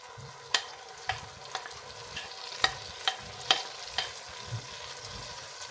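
Tomatoes go into a pan of reheated onions, sizzling softly with a series of sharp spoon clinks and scrapes against the pan at irregular intervals, close and fairly quiet.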